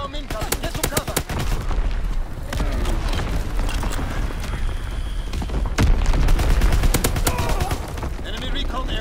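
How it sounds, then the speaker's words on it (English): Loud, continuous battle noise from an enemy artillery bombardment in Call of Duty: WWII multiplayer. Booming blasts and rapid gunfire crackle throughout, and a voice calls out over the din. "Incoming enemy artillery. Get to cover. Enemy bomb incoming."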